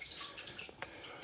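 Orchids in pots getting a soak, water running and splashing softly in a short burst with faint drips, close by and with no voices.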